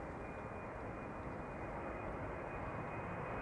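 An Air Canada airliner departing Amsterdam Schiphol Airport gives a faint, steady, broad roar of jet engines heard from a distance, with no voices.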